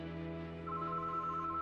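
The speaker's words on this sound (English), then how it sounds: "But that afternoon, Detective Jones's phone rang, and the best lead he'd gotten so far seemed" A telephone rings faintly under a steady tonal hum, with a bright ringing tone entering partway through and holding to the end.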